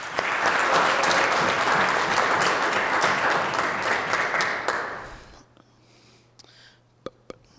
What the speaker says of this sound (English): So give yourself a round of applause for even being here.